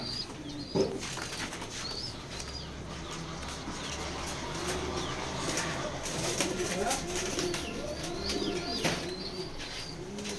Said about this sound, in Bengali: কালার দুইটাই লাইট কালারের এবং সুন্দর এক জোড়া কবুতর